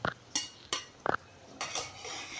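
Chickpea greens bhaji being served from a pan onto a plate, a handful of close metallic clinks and scrapes of a spoon against cookware, spaced irregularly with short pauses between.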